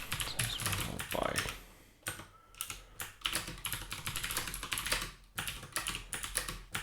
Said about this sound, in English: I'm going to type it out here as well just in case it's useful.